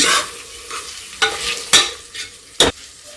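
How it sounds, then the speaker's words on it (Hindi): Spices with tomato and Kashmiri red chilli being roasted for mushroom curry, with a faint sizzle broken by four sharp spoon scrapes and knocks against the pan, close and distinct. "सारे मसाले को हम अच्छी तरीके से भून लेंगे।"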